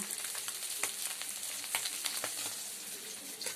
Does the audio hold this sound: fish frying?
yes